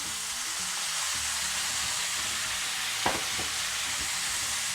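Beet stems sizzling and frying steadily in a pan after a little water is added, a continuous hiss with a brief louder crackle partway through.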